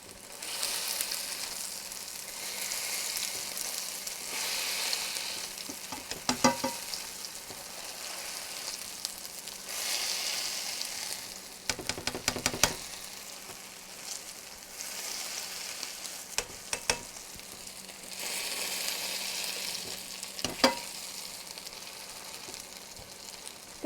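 Canned potato patties frying in a pan, a continuous crackling sizzle with swells and occasional sharper pops, close and steady throughout.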